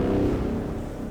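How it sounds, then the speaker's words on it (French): A car engine rumbles past nearby, a short low drone that fades slightly as it goes, with no talk. "Une bruit de voiture."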